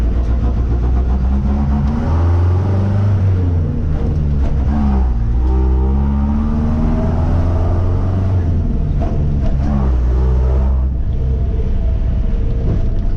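An Otokar M2000 Magirus bus engine revs repeatedly, a loud, close low rumble rising and falling in pitch throughout, heard from on board.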